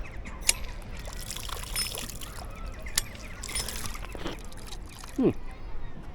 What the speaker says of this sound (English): Here we have local fresh mountain water.